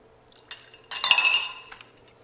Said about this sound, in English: let's pull those ice cubes out of there.